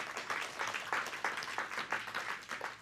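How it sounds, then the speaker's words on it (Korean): A church congregation claps in unison for God during a Korean Sunday worship service in Houston, steady rhythmic hand claps repeating about three times a second, moderately loud and filling the room. "하나님께 큰 영광의 박수 올립니다."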